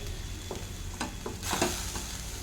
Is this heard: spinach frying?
yes